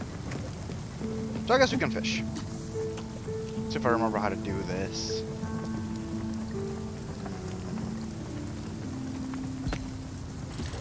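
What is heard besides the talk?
rain falling in the video game Spiritfarer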